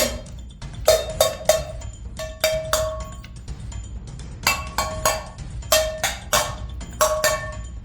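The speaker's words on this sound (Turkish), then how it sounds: "böyle tencere tava sesi gelmişti ya anneciğim" Clattering pots and pans in irregular bursts of metallic clanks and clinks, fairly close, with brief pauses between clusters and no talking.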